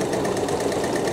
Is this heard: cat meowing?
no